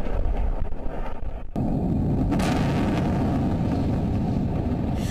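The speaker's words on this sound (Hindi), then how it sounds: "गाजा पट्टी में इजरायली सेना जमकर बमबारी कर रही है" Heavy bombing by the Israeli army in Gaza rumbles as a dense, continuous roar of blasts and debris, dropping sharply for a moment before surging back loud and sustained.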